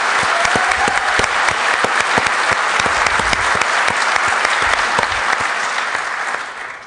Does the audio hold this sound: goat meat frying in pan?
no